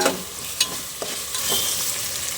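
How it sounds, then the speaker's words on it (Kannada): Ginger garlic paste fries in a pan with a continuous hiss, while a few sharp scraping clicks from stirring punctuate it close up. "ginger garlic paste full smell ಹೋಗೋವರೆಗೂ ಬಾಡಿಸ್ಕೊಳ್ಳಿ"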